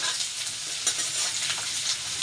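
Nigella seeds, dried chillies and garlic frying in hot oil, a close, continuous bright sizzle with faint stirring scrapes over it.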